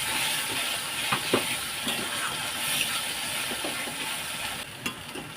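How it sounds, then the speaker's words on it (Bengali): A poppy-seed spice paste for gondhoraj egg curry sizzles in a pan over high flame, a steady hissing fry with repeated scraping and knocking of a spatula as it is stirred. "হাই ফ্লেমে নাড়াচাড়া করে নিতে হবে"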